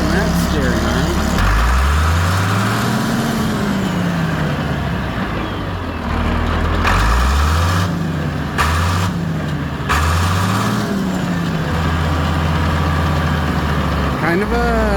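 An International Harvester 1256 tractor engine idling steadily nearby with a deep, throbbing rumble that rises and falls a few times, while a voice talks over it intermittently.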